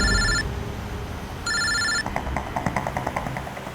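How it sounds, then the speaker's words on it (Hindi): Telephone ringing in two bursts of electronic bell tones with a pause between, then a rapid rhythmic ringtone pattern, over a noisy background. "मैंने अमन को फोन किया"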